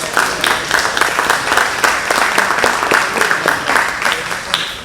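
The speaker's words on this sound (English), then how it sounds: "another round of applause" A crowd applauds steadily with dense, even clapping that holds throughout, fairly loud and close.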